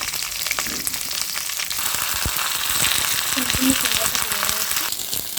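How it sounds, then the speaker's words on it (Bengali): Pumpkin pieces and green chili fry in hot oil in a pan, giving a steady, dense sizzle with crackling pops throughout, while a voice may be faintly present. "এখন আমি কুমড়াগুলো দিয়ে দেবো কাঁচামরিচটা একটু ভেজে দিলে সুন্দর একটা ফ্লেভার আছে"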